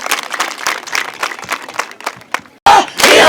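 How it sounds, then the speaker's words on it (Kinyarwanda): An outdoor crowd at a youth tree-planting event bursts into clapping and cheering for a minister, with irregular claps and shouts that break off briefly and then surge back louder and denser. "bongere mu ntiza amashyi tumushimire"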